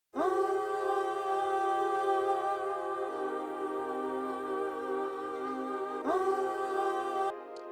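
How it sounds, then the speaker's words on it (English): Sampled backing vocal lifted from a stem of a song, a sustained sung phrase held steadily, fairly soft, with a brief re-attack near the end before stopping abruptly. "And I found this little backing vocal to add to the tune, and it sounds like this."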